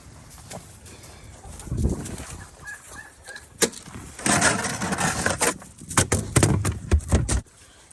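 Hens cluck and murmur in bursts around a nearby pen shared with a turkey, with scuffling and rustling between the calls.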